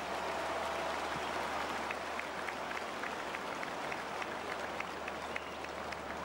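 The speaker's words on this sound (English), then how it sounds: "please give referee John Keenan from Ockram and his team of officials a round of applause" A large crowd at a stadium hurling final applauds the referee and officials, producing a dense, steady wash of distant clapping that holds evenly for several seconds.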